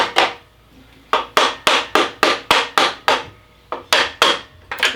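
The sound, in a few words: tapping with a small bronze hammer on an RB25 engine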